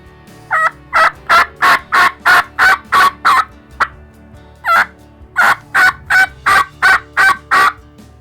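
A mouth call imitates an aggressive turkey hen's yelping: two loud, close bursts of about ten to twelve sharp, evenly spaced notes each, separated by a short pause.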